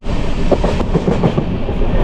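The KSR Bengaluru Intercity Express 16378 runs between Ernakulam and Coimbatore, giving a loud, steady rumble of rail cars with rhythmic clickety-clack wheel beats throughout. No one speaks.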